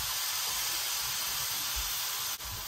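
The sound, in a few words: roast searing in a pan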